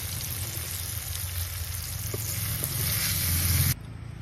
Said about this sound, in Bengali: এই দেখুন বটবটিগুলো সুন্দর করে ভেজে নিয়েছি